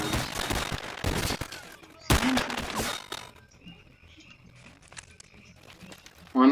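A shotgun in the Stalker Clear Sky video game fires several loud, close blasts in a burst, followed by quieter background game noise and a voice near the end.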